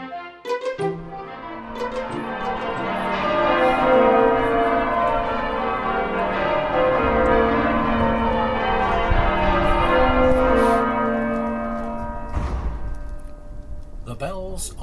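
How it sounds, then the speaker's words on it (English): Church bells of York Minster cathedral in York: a full peal of many overlapping bells ringing continuously and fairly loud, swelling in the middle and thinning toward the end, with a voice speaking over the ringing near the end. "The bells of York Minster, one of the great cathedrals of Northern Europe."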